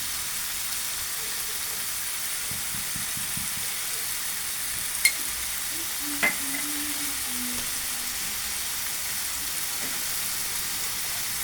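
Mixed spices fry in cumin oil while being stirred, making a soft, even sizzle with a quiet hiss throughout. Two brief clicks from the utensil stand out near the middle.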